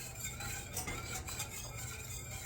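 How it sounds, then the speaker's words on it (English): A spoon scrapes and swirls through boiling chocolate sauce in a pot, making soft, faint stirring and bubbling noises with a low continuous background and no talking. "I'm going to give it one last stir,"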